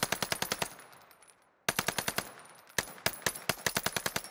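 A new weapon in a video game firing rapid full-auto bursts, sharp evenly spaced shots in three runs separated by brief pauses, loud and close with no talk.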